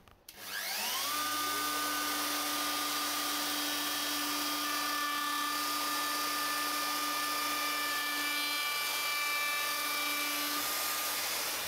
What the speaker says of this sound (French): la partie fraise va venir tailler le bois qui dépasse ici